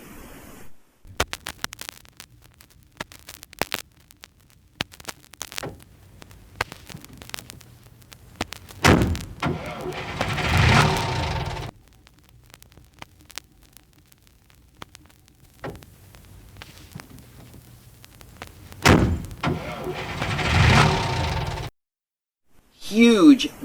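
A vinyl pressing plays on a turntable after a Spin Clean wash: soft crackle and surface ticks over quiet music. Two louder passages swell and fade, separated by stretches of near-silence.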